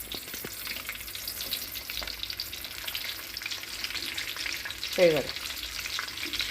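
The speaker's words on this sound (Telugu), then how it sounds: "నూనె అయితే హీట్ ఎక్కిందండి, చేపలు వేసేసుకుందాం." Dried fish fries in hot oil with a steady, fairly soft hiss and crackle that continues throughout, while a voice briefly says a word.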